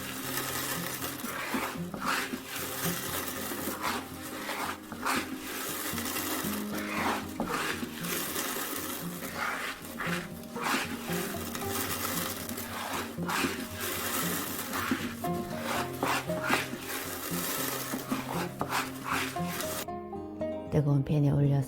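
Spicebush flower tea leaves are tossed and shaken in a hot pan as their moisture steams off, giving a continuous dry, crisp rustling and scraping with rhythmic pulses of movement.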